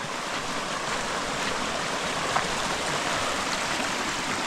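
Clean, cold stream water at a hidden swimming spot, heard as a loud, continuous rushing flow with no voices.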